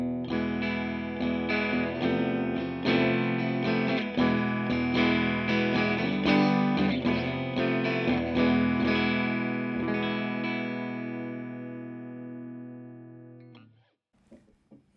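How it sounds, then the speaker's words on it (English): A Fender Stratocaster on its bridge pickup plays clean chords and notes through a Laney Lionheart L20H 20-watt all-tube amp with reverb, ringing full and close for about thirteen seconds before the last chord decays to near silence. "this is what it sounds like on the bridge pickup of my Strat"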